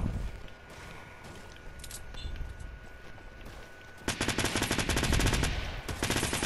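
Fortnite gunfire crackles in the distance, then breaks into loud, rapid automatic bursts close by, the repeated shots rattling on in quick succession.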